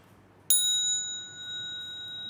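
A bell in a Buddhist setting is struck once and rings on with clear, sustained tones that slowly fade, alone and fairly close.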